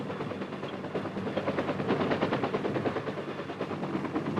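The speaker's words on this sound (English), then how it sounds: "Assault helicopters arrive in their pre-designated pickup zones." Military assault helicopters arriving at pickup zones, a loud, steady rotor thump and engine drone that fills the whole stretch without any voices.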